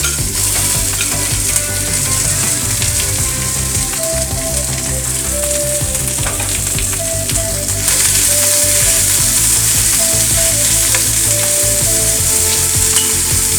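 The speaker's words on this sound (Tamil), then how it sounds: "இதை ஒரு 2 நிமிஷம் நல்லா வதக்கிக்கோங்க" Grated coconut sautés in a pan on South Indian tamarind rice cooking, giving a loud, steady frying sizzle with stirring and a faint background tone throughout.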